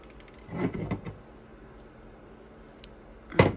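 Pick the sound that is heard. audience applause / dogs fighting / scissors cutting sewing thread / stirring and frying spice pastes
scissors cutting sewing thread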